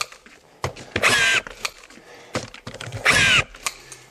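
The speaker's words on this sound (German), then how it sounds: "So, und jetzt schrauben wir einfach hier die ganzen Schrauben rein." A power screwdriver drives screws into drywall boards on a prefab-house wall being double-layered, giving two short whirring bursts a couple of seconds apart with quieter handling noise between them.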